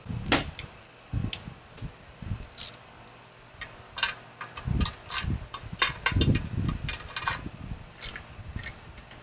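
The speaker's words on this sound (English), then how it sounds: "I'm gonna go get ratchet." A ratchet works on a machining job in irregular bursts of metallic clicks and clanks, close and moderately loud, with short pauses between strokes and no talking.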